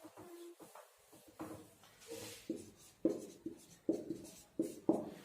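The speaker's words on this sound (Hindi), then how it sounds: "उपनाम ये लिख देता हूं" Pen or chalk strokes writing words in a class lesson, a series of short scratchy marks in an uneven rhythm, close and fairly faint, with no talk.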